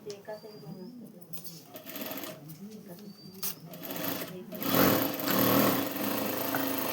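Sewing machine stitching folded pleats on a sleeve, with short runs of rapid mechanical whirring rising to a louder sustained burst toward the end, mixed with handling noises and someone talking.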